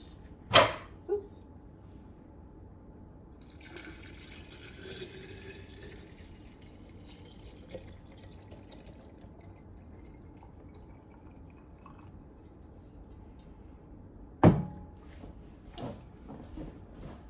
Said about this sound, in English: top that off with my dechlorinated water